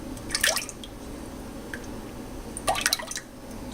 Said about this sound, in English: I'm going to put 2 cups of heavy whipping cream to do my Alfredo sauce in